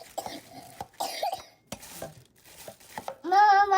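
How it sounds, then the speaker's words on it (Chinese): A young child coughs in several short, separate bursts amid light kitchen clatter. A brief high-pitched vocal sound follows at the end. "今天又有点咳嗽了呢"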